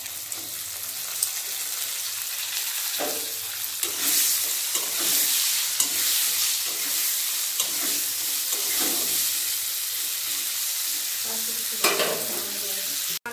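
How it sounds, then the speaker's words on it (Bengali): Carrots and drumstick vegetables fry together in a pan, a steady close sizzle with intermittent stirring scrapes and clinks throughout. "সব একসাথে দিয়ে ভেজে নেব।"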